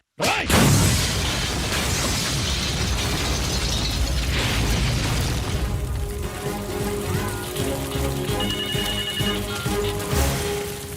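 A loud bomb blast in a film scene erupts at the start, followed by a long roaring, crackling rumble of debris and fire that slowly thins out.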